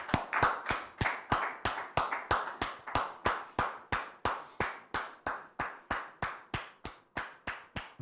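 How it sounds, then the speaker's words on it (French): Rhythmic unison clapping from a studio audience welcoming guests, about three even claps per second, crisp and steady for the whole stretch with no talk. "On les reçoit sous vos applaudissements"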